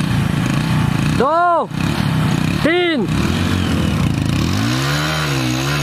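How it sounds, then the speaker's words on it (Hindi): Motorbikes are started and revved in a tug-of-war bike stunt test, their engines rising and falling in loud swooping bursts close by, with someone shouting a count over the noise. "बाइक स्टार्ट कर लो अपनी।"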